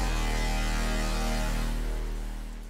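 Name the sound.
hardstyle lead and sub bassline without kick, FL Studio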